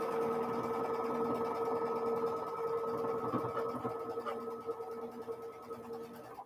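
Sewing machine stitching rows of a quilt star block together, a continuous close mechanical whir with a rapid needle rhythm running steadily and easing slightly toward the end.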